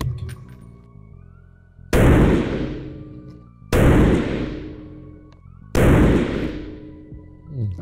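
Three loud carbine rifle shots fired at a range while zeroing a scope, evenly spaced about two seconds apart, each a sharp blast ringing out into a decaying tail, with no talk over them.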